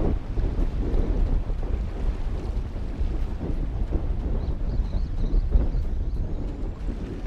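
Strong stormy wind buffets a fishing boat at sea, a loud constant roar with low rumbling gusts battering the microphone and no talk.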